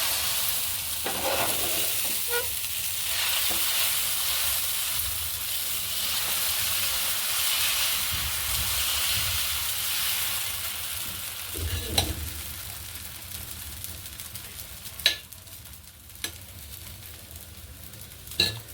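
Green moong paper dosa cooking on a hot pan: a continuous soft sizzle and hiss, with a few sharp scrapes and taps of a spatula near the end.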